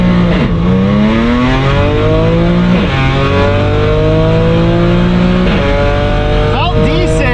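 A 2008-era Audi B8 S4 with seats removed launching on a cold, wet track: loud, close engine revving in rising and falling sweeps with repeated surges, drowning everything else for the whole stretch.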